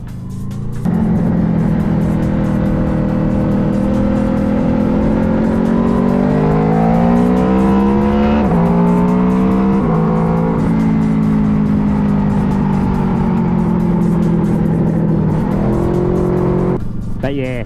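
A Honda VFR 800 motorcycle fitted with a quick shifter laps a race track, its engine droning loud and steady as the pitch rises through the gears, with quick upshifts and dips before cutting off near the end.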